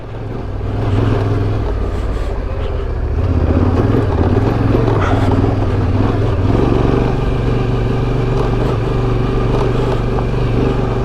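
An adventure motorcycle climbs uphill on a ride between Wisemans Ferry and Cessnock near Sydney, the engine droning loud and steady with some rising revs and rumbling wind, no voices.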